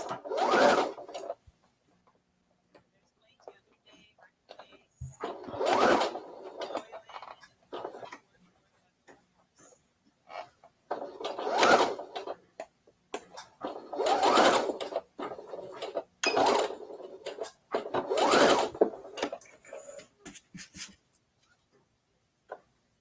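A sewing machine stitches fabric for pants being made from a men's shirt, in several separate loud bursts of fast needle clatter with near-silent pauses between them.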